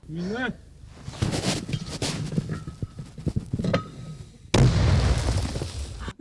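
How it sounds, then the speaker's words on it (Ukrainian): Several heavy booms and thumps from 120 mm mortar fire, some distant, with a loud blast near the end, mixed with people talking, near Chasiv Yar. "Цей міномет калібру 120 мм завжди першим включається в роботу"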